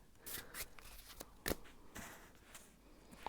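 Tarot cards are shuffled by hand, giving soft, uneven riffles and taps at close range. The sound is quiet, with short bursts separated by brief pauses.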